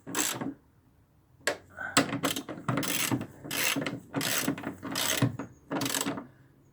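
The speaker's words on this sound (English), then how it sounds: "So we tighten these bolts" A ratchet wrench tightens 13mm bolts on a VW AdBlue reductant tank, giving repeated bursts of close, crisp clicking ratchet strokes separated by short pauses.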